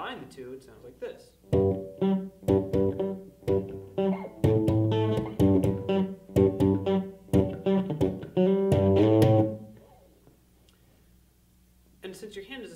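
A guitar is played with the slap and pop technique, a rapid run of punchy thumb slaps and snapping plucked notes lasting several seconds, then it stops, with a brief strum near the end.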